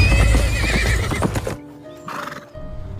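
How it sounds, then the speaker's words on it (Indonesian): A horse comes near at a quick pace in a historical drama setting, its hooves clip-clopping loudly and close before a whinny rings out, followed by softer movement. "namun lagi-lagi gagal karena suara kuda yang datang mendekat"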